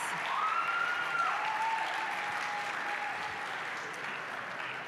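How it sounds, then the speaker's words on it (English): Sustained applause from an audience at a college prize-giving ceremony, steady and dense throughout, with a faint tonal whistle or feedback line drifting beneath it. "let's give her a round of applause."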